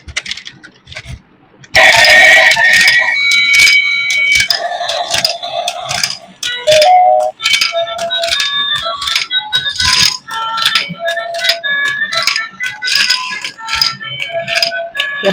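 A toy domino train runs along, clattering and rattling busily as it lays plastic dominoes, with brisk clicks and tonal whirs close by after a quiet opening second or two.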